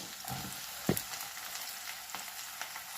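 Onions frying in a pan with mustard seeds, cumin and turmeric, a soft steady sizzle with a sharp clink of a utensil near the start and a few faint pops and scrapes.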